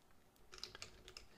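Someone types a web address into a form on a computer keyboard, producing a quick, soft run of close key clicks over about a second, with no talking over it.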